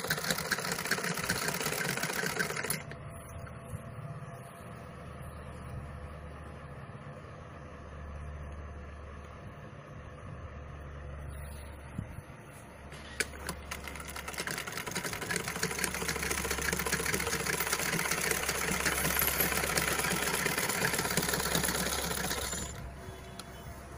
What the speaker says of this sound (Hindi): अब ये आराम से आप चला के देखो कि सिलाई कैसी आ रही है।